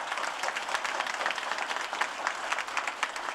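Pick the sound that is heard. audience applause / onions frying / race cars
audience applause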